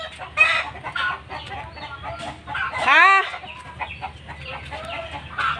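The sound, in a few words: chickens clucking and crowing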